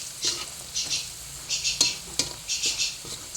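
Sizzling oil as potato fries cook in a pan, with repeated stirring and scraping of a utensil against the pan, a few sharp clinks, no voices.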